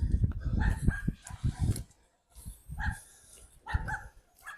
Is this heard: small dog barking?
yes